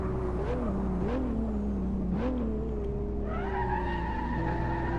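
A race car in the Assetto Corsa driving game brakes hard into a corner, its tires squealing in long wavering skids over a steady engine drone, then the engine note climbs as it accelerates away.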